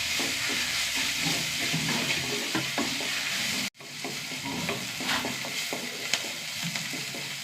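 Crushed ginger, slit green chillies and curry leaves sautéing in a pan: a steady close sizzle with scraping stirs throughout, a brief cut of silence midway, no talk.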